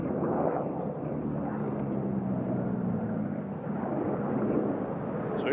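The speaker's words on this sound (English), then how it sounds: "here comes United coming in from Houston, Texas, George Bush Intercontinental" A United airliner arriving at Nashville from Houston, Texas, makes a low, rumbling engine roar that swells and eases slightly, fairly close and continuous, with no voices over it.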